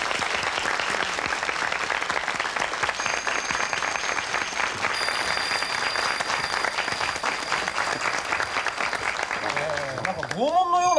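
A studio audience claps steadily and loudly for the entrance of magician Mr. Maric at a Japanese TV magic show, continuous dense applause filling the whole stretch, with a few whistle-like tones near the end.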